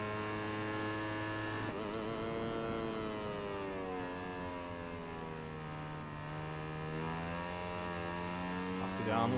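A Red Bull KTM Moto3 racing bike in MotoGP 18 holds a steady, buzzing high-revving engine note that pitch-shifts as it brakes and accelerates again, loud and continuous, with a voice talking over it throughout.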